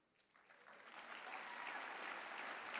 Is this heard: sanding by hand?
no